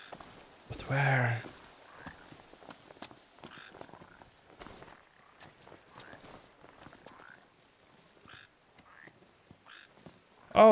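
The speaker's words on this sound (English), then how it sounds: "There's a frog nearby." A frog croaking in the video game Final Fantasy XV, with a string of short, soft croaks and clicks scattered amid game ambience and footsteps, plus one louder burst early on.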